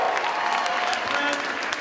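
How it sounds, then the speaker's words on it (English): A Calgary crowd celebrating Stephen Harper's election-night majority victory speech breaks into loud, continuous applause and cheering, a dense wash of clapping throughout. "The crowd in Calgary went wild as Harper finally won the majority government"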